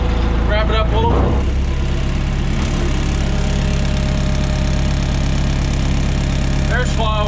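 A worn 2015 Chevy Silverado 2500 4x4 with engine damage runs on a straight pipe exhaust, giving a loud, steady, rumbling idle close by with a rev near the start, while people talk over it.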